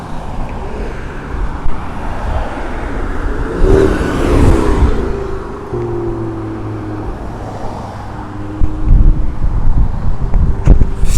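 A tuned Audi RS3 with over 500 hp approaches and speeds past outdoors, its engine rising and falling through gears amid wind buffeting on the microphone and surrounding road noise.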